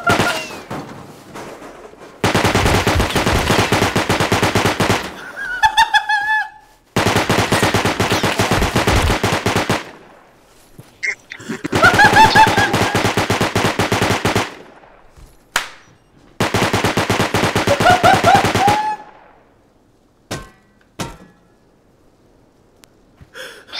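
An auto turret in the online game Rust fires loud, sustained bursts of rapid automatic gunfire, several separate volleys of a few seconds each, broken by short gaps and lone shots near the end.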